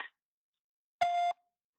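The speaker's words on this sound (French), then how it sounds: "Veuillez laisser votre message après le bip." A single clean electronic Orange voicemail beep, steady and about a third of a second long, follows a brief tone cut-off, then silence.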